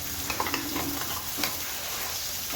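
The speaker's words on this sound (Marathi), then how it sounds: "वांग्याला आपली मसाला लावून घेते आणि एकीकडे तळण्यासाठी ठेवत आहे" Masala-coated eggplant (vaangi) fries in oil in a pan, giving a steady, close sizzle with small crackles and a few stirring taps, and no one speaking.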